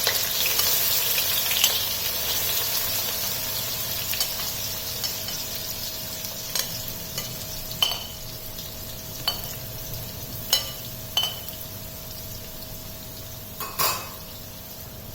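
Onions sizzle steadily in hot oil in a pan, a broad close frying hiss with occasional sharp clinks and stirring scrapes of a utensil against the pot, no voices.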